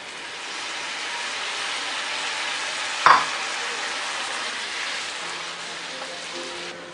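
Tomato puree sizzles and fries steadily in a kadai for a gobi masala, a continuous close hiss with one brief sharp clatter of stirring partway through and no talking.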